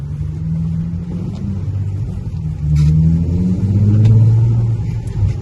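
A powerful sports car engine accelerates with a deep, throaty rumble that swells louder through the middle, heard up close and steady from inside with a window open.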